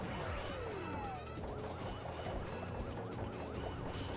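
Dense arcade-style shooting in the PlayStation game Jumping Flash, with rapid warbling laser blasts and crashing impacts layered over continuous game music, loud and unbroken.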